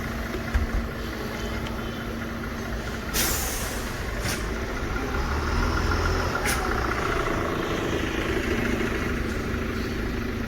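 A bus idling at a city bus stop in central Málaga, its engine rumbling steadily under street noise, with several sharp hissing bursts of air brakes releasing partway through.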